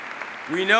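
Applause from an audience, a steady wash of clapping in a large room during a political speech, with a voice rising over it at the end.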